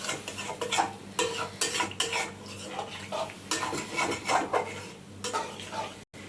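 A spice paste for katla fish curry is stirred and fried in a pan with a little water. A utensil scrapes and clinks against the pan in repeated strokes over a soft sizzle, close and fairly loud, with no talk.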